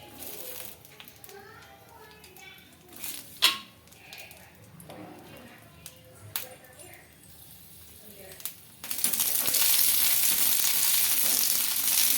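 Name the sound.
green chillies frying in a little oil for chutney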